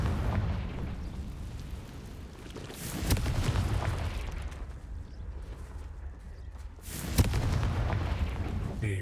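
A Confringo fire spell blast in Hogwarts Legacy, heard as booming explosive bursts over a dense rumbling game soundscape, with a sharper impact near the end.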